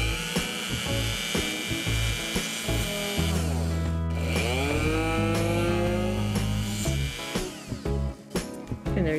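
A rotary tool held in a Veritas plunge base, switched on with a foot pedal, drills a hole with a steady high whine that shifts in pitch as it cuts, continuous and close with no talk over it.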